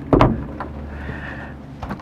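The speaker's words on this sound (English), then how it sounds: "We've got a door here that will close off for privacy into the bedroom." Bedroom door in a 1995 Fleetwood Flair 28-foot RV closing, a quick close sliding bump followed by a softer muffled clunk a moment later, close by in a quiet interior.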